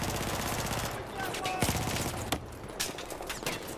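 Rapid automatic gunfire in the Battlefield 4 campaign, dense and continuous across the whole stretch with a few sharper cracks standing out near the middle, with a voice faintly audible underneath.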